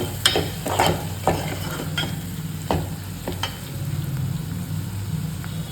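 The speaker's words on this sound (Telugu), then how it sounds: "ఇప్పుడు ఆనియన్స్ బాగా వేగినాయి కదండి" Onions frying in a pan, with a steady close sizzle under repeated scraping stir strokes of a spatula across the pan; no talk.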